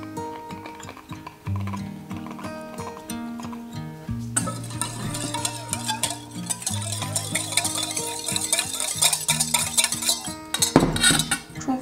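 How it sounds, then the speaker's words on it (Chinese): A spoon stirs gelatin powder into hot water in a measuring cup, clinking and scraping against the sides over a constant background tone, growing busier and louder toward the end with no speech. "充分搅拌以后呢"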